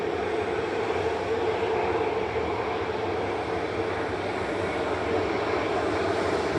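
A Ryanair jet bound for Copenhagen taking off from Manchester Airport, producing a loud, continuous, close engine roar at full power that stays steady throughout, with no voices.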